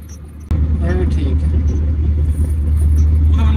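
A Volvo manual truck's engine rumbles steadily while driving, starting abruptly and holding a low, constant drone close up, with a person talking over it.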